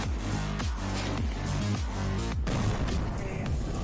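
Heavy artillery guns fire in footage of Indian Armed Forces along the LOC. Repeated loud booms land in a dense, sustained wall of sound, each blast trailing into a rumbling decay.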